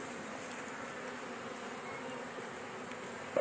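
Honey bees in a Langstroth top-bar hive set up a week earlier give a steady, even buzzing drone that holds through the whole stretch, with a brief louder bump at the very end.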